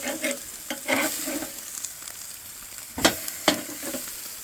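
Steaks sizzling over charcoal on a grill as they are flipped with a heavy-duty spatula, a steady frying hiss broken by a few sharp scraping clanks near the end, with no voices.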